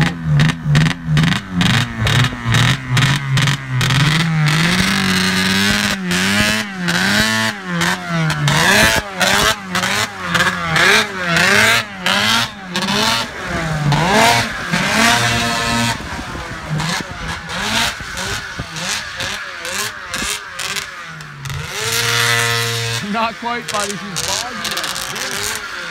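An Arctic Cat ZR440 snowmobile, freshly rebuilt and running poorly, revs up in repeated surges and bogs down unevenly, its engine note rising and sagging loud and close for the whole stretch while people talk over it.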